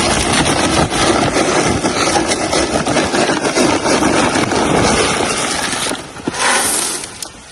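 A motorcycle engine idles steadily at close range, a continuous rumble through most of the clip, with a brief dip and change near the end during work on an oil palm plantation.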